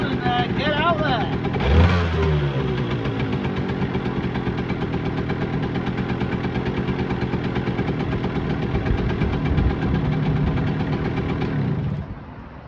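Yamaha RD80 classic two-stroke motorcycle idling steadily up close, with a brief blip of revs near the start and a continuous burbling, crackly tick until it cuts out at the end.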